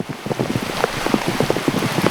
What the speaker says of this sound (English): and Harriet have been working hard together, getting them PVA bags knocked up and chucked out in the pouring rain